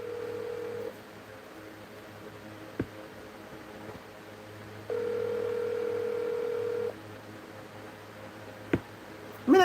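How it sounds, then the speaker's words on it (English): A telephone tone sounds while a call is being placed, a steady electronic tone heard briefly at the start and again as a longer two-second burst, set against a quiet hissy room background with a few faint clicks. "Let me take a call from Winnie"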